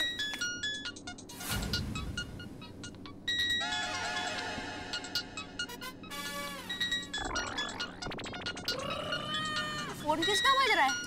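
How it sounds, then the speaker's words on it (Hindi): A mobile phone ringtone plays loudly in a comic household scene, a bright melodic tune with shifting tones over several seconds, mixed with other noises and bursts of background sound. "फोन किसका बज रहा है?"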